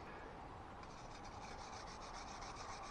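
Steady, continuous rubbing and rasping as corrosion is scrubbed off a stud on a Mercedes ML350, close and even in level for about three seconds, with no talk.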